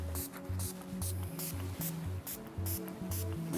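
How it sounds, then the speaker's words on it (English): Short bursts of SSS Super Shine Spray misted lightly over naturally curly hair, about eight quick hissing puffs in a steady rhythm, close and fairly quiet, with low background music underneath. "we take SSS Super Shine Spray, and we're just going to lightly layer it down over the hair"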